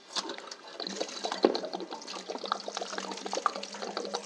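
Water spilling out of an RV water heater tank as the anode rod comes out, a steady close splashing and trickling flow with small drips and knocks and no talking.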